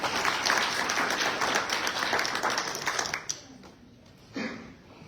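A town hall audience in Asheville claps and applauds loudly for about three seconds, the dense clapping fading out, then a short burst of noise and a voice follows.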